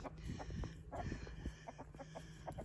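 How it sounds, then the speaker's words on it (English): Roosters in a backyard flock cluck in short, irregular bursts, close but fairly quiet, with scattered soft calls and no speech. "I'd just like to announce that we have 2 more roosters."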